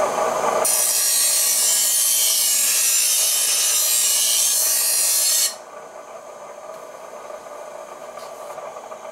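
Hand file dressing the edge of a garden shovel blade, a loud close rasping scrape held for about five seconds, then stopping and leaving only faint background noise.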